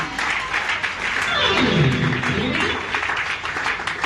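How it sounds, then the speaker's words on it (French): A theatre audience applauds steadily and fairly loudly for about four seconds, the clapping dense and continuous with a low murmur of voices beneath it. "Vous n'applaudissez pas pour ma maturité."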